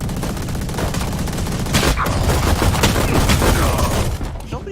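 Rapid gunfire from a Valorant match, including bursts from an Odin machine gun, sustained and dense throughout with loud crackling shots layered together and no clear pauses.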